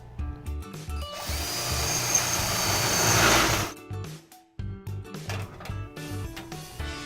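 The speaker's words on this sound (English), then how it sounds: "Use the leg as a template and drill a new mounting hole." A power drill whirs steadily for about three seconds under background music, drilling a mounting hole in an elevator ceiling canopy, then cuts off and the music continues.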